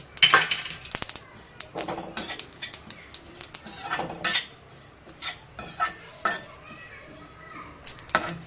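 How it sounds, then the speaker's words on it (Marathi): Poppy seeds dry-roasting in a pan for a homemade non-veg masala give irregular scraping clinks and light rattles from stirring, close and fairly busy throughout, with no talking. "खसखस टाकते नंतर खसखस भाजून घेऊया"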